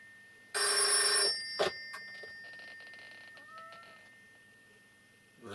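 A telephone bell rings loudly in one long burst, then a short second ring, followed by faint creaks and room noise at night.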